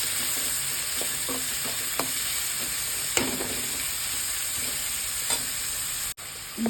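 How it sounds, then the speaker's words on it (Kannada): Chopped onions fry in hot oil with cumin in a pan, a steady broadband sizzle running throughout with scattered scrapes and taps of a spoon stirring them, close and fairly loud, no voices. "ಈಗ ಕಟ್ ಮಾಡಿರುವಂಥ ಈರುಳ್ಳಿ ಹಾಕ್ಕೊಳ್ಳೋಣ. ಗೋಲ್ಡನ್ ಫ್ರೈ ಆಗೋವರೆಗೂ ಚೆನ್ನಾಗಿ ಹುರ್ಕೋಬೇಕು."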